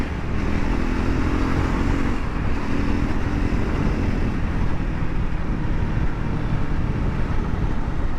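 A Triumph Scrambler 400 X motorcycle is ridden and accelerates. The engine drone rises slightly in pitch and is heavily mixed with constant loud wind rush throughout.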